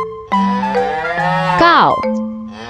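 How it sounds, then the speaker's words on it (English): A cow gives a single long, loud, close moo, a steady drawn-out low call that bends upward and breaks off near the end, with a musical tone underneath in a children's farm-animal song. "Cow."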